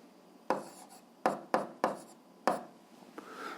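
Chalk or marker strokes on a classroom board during an algebra lesson come as five or six distinct, sharp taps and scratches with short quiet gaps between them, close and fairly clear.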